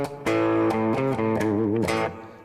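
An electric guitar plays a short run of sustained notes through heavy distortion, loud and close, with the notes bending and changing before the sound fades out.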